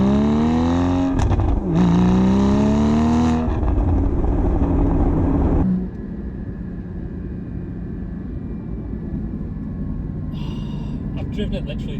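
A 981 Porsche Cayman GT4 accelerates hard through the gears, engine revving loud and rising with sharp shift breaks, then settles into a steadier cruising drone with road noise; a voice speaks over part of it.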